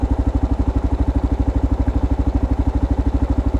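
A Kawasaki KLR650 single-cylinder motorcycle fitted with a JD tuner kit idles close by, its engine set to a low idle, giving a steady, fast, even thumping pulse with no pauses and no voices.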